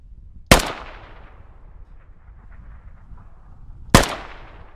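Two sharp, loud rifle shots fired at a practice range in the game Squad, about three and a half seconds apart, each with a short echoing decay trailing off into near silence.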